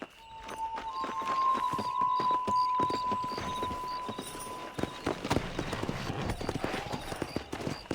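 Horses' hooves clip-clopping on hard ground in the Red Dead Redemption video game, a loud run of uneven hoofbeats that grows busier and quicker after the first few seconds as the horses move from a walk into a trot.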